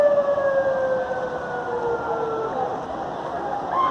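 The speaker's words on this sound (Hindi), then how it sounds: "ये पुलिस मोबाइल देखें, ये पुलिस की मोबाइल आ रही है" A police car siren wails, rising and falling steadily, fairly loud, against the low rumble of traffic and street noise in Karachi after heavy rain.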